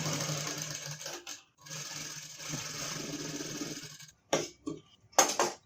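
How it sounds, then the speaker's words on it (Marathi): A sewing machine stitches the side seam of a gown being taken in, running in a close rapid mechanical whir, stopping briefly, then short bursts of stitching near the end, with no voices. "अशा पद्धतीने बरोबर भाई आणि खाली बाजू व्यवस्थितपणे धरून शिलाई करून घ्यायचं आहे"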